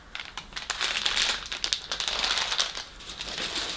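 Paper crinkles and rustles continuously as a subscription box is unpacked, sounding close and fairly loud, with no talking.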